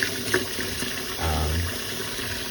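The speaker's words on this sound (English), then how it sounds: "we're just running this cold water over them" Cold tap water runs and splashes over boiled eggs in a sink, a short gurgling pour that swells midway, close by with faint background noise.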